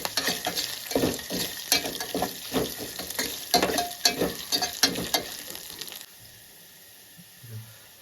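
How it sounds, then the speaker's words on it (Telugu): Chopped ginger frying in a pan for Andhra buttermilk rasam, a steady crackling sizzle with repeated scraping stirs that stop abruptly partway, leaving a quiet hiss with a faint low knock near the end. "ఇప్పుడు ఒక చిన్న అల్లం వేసుకుందామండి. అల్లం కూడా పచ్చి వాసన పోవాలండి,"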